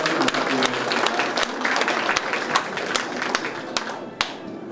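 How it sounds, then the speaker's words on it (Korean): A crowd applauds at the opening ceremony of the Sejong traditional culture experience hall, with dense, continuous clapping and sharp individual claps standing out near the listener, steady and fairly loud throughout. "큰 박수 부탁드립니다"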